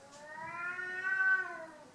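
A Maine Coon cat gives one drawn-out, wavering meow edging toward a caterwaul, close and clear against a quiet room.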